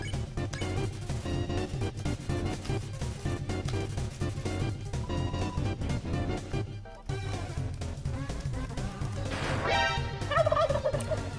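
A turkey gobbling plays as an alert sound over game music, a loud sequence of rapid warbling gobbles that rises toward the end.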